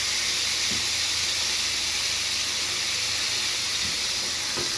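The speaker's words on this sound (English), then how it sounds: "Oh man, the sound of that sizzle is amazing." Smash burger patties sizzle loudly on a hot griddle, a dense unbroken hiss that fills the whole stretch with only a few faint clicks underneath and no voices.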